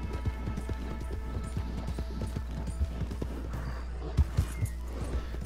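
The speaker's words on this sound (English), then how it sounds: "get on that horse and ride" Horse hooves clip-clopping in a steady galloping rhythm as a rider travels on horseback in the Red Dead Online video game, with a continuous low background hum, a few louder thuds near the end and no speech.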